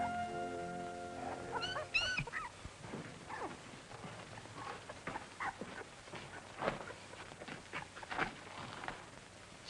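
A mother dog with her puppies on an old film soundtrack, with faint yips and whimpers, scattered soft patters and shuffles, and brief animal calls. Everything stays fairly quiet.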